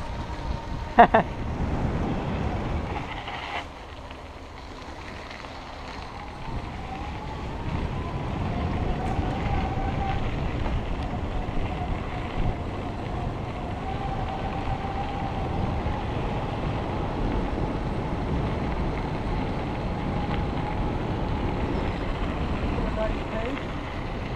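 A Volton electric bike climbing a hill on throttle on a trail, heard mostly as steady rushing wind noise on the microphone with a faint whine rising in the middle, plus a brief knock near the start.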